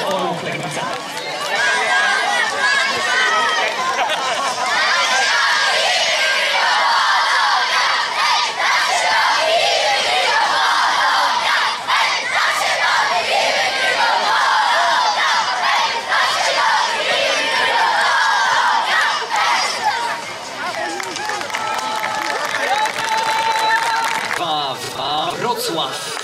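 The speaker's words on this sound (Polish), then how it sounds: "Ale brawa również dla pokonanych" A crowd at a youth football tournament applauds and cheers the young players of Orły Legnica, a dense, continuous wash of clapping, children's shouts and chatter lasting throughout.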